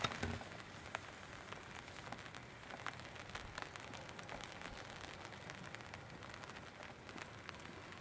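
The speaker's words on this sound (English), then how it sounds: "Feel like it's been raining though." Steady rain patters and hisses continuously, with scattered louder drops tapping against a surface throughout.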